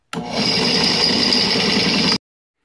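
A power drill whines steadily for about two seconds while boring larger holes in a car control arm, close and loud with a sustained high-pitched tone, then cuts off abruptly.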